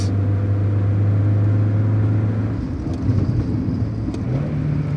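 A stock 1992 Mazda Miata NA with its 116-horsepower engine pulled to full throttle toward a 7,000 RPM redline, giving a steady loud droning hum with a rising tone near the end, heard from inside and without speech.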